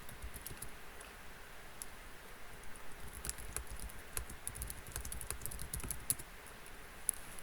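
Faint computer keyboard typing during a virtual-world community meeting: irregular light clicks and taps over quiet background hiss, without any talking.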